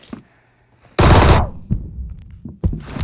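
A loud burst of rapid automatic gunfire erupts in a shooting video game, followed by scattered shorter shots and impacts, with quiet game sounds before it.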